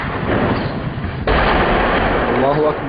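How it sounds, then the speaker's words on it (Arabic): Artillery shelling strikes the Al-Qusour district of Homs as a loud, sustained roaring barrage that jumps sharply louder midway, with voices shouting in the mix. "قصف مدفع حي القصور."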